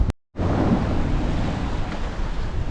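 Strong wind gusting across a sailboat at sea in 18 knots, with rushing waves and hull wash, a loud, steady broadband roar after a brief dropout at the start.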